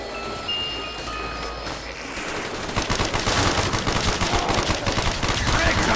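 Black Ops Zombies ray gun fire on Kino der Toten: dense, continuous shooting with crackling bursts and rumbling impacts building to a loud, busy barrage, against a steady game backdrop.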